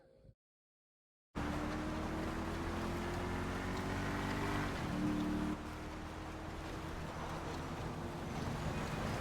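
A colossal Enus Deity V12 engine in GTA 5 starts up after a brief silence and settles into a loud, steady, smooth drone, with a rising pitch that dips slightly midway, close and alone.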